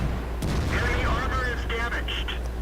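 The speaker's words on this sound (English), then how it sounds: "I get another shot in from the E75" Tank cannon fire in World of Tanks during a Tier 10 heavy tank battle involving an E75, with a sudden heavy boom and then a ringing tail and mechanical clanks, while a voice talks over it.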